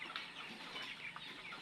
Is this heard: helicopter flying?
no